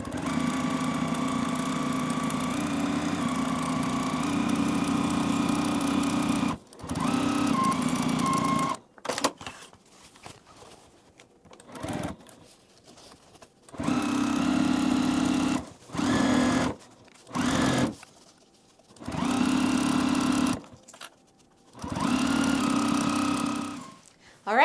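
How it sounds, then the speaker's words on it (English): A sewing machine stitches along a folded fabric edge in several runs of steady, buzzing whir, starting and stopping with short pauses between bursts. "I'm going to take that to my sewing machine and just sew right along that edge."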